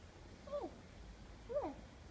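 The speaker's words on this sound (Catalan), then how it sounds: "És un gatet." A small kitten gives two soft, faint meows about a second apart against a quiet room background.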